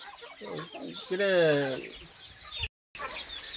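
Hens clucking close by on a hen farm, a burst of fowl calls rising briefly under a voice before a short silent gap.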